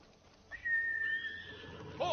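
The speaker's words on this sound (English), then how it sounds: "Horse!" A single horse whinny in the video game Ghost of Tsushima rings out, a thin, whistling, drawn-out call lasting about a second, fairly quiet against a faint background.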